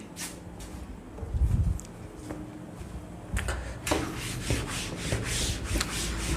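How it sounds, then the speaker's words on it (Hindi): Writing on a classroom board is rubbed out in a dry, scraping rubbing sound that runs as a steady swish, louder in the second half, with no talking. "तो इसको रब करते हैं"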